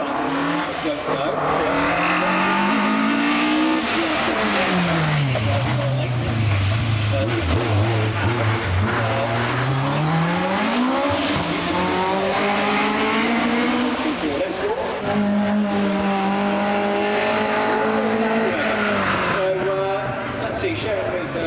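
A Ford Escort Mark II rally car at a Prescott speed hill climb revs hard and climbs through the gears, the engine note swooping up and down continuously and loudly under a commentator's steady talk.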